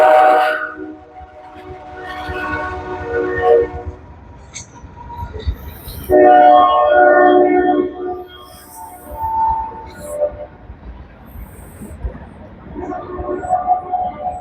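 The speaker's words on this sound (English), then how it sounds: "The train is going by right now." A train rumbles past with loud horn blasts sounding repeatedly over the steady clatter of the cars.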